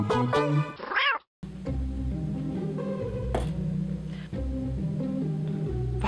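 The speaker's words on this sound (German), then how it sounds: "aber die Katze sieht so hungrig aus" A stray cat meows repeatedly outdoors, loud and close, with a couple of drawn-out, wavering calls and a brief pause between them.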